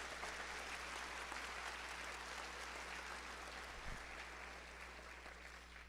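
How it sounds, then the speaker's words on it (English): An audience at a school awards ceremony gives a round of applause, a dense, even wash of clapping that sounds faint and distant and fades slightly toward the end. "can you join me in a round of applause for all of our students that greeted you and sang for you?"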